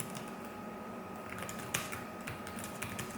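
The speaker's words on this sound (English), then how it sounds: "the keyboard style and comfort is great. It's pretty silent. Let's take a listen." Soft, quiet keystrokes tapped on the thin keyboard of a Dell XPS 13 9370 laptop, a steady run of light clicks with a few sharper taps standing out against a faint background hiss.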